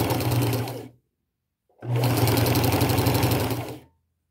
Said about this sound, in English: I'm going to fold it over one more time to where I can just barely see that stitch line and I'm going to sew it closed.